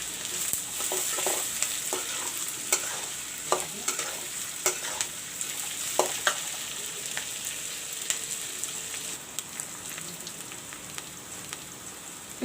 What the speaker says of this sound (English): the cardamom, red chilies, and let it fry it, and put some cumin seeds also